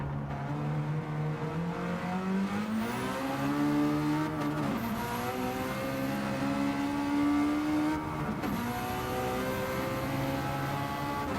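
An engine-swapped Toyota AE86 racing at Deep Forest in Gran Turismo 7 roars with a loud, continuous engine note, rising through revs and shifting gears twice, with layered harmonics from other cars close behind.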